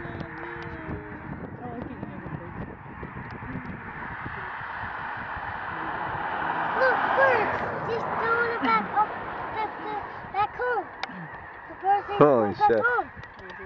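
Geese honk and ducks quack outdoors as a girl runs at them. The calls start scattered and grow louder and denser as the flock scatters, with people talking and exclaiming throughout.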